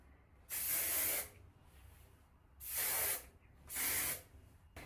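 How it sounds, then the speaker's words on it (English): Three short bursts from an aerosol hair spray can, each a loud hiss of about a second, separated by brief quiet pauses. "Quick spray."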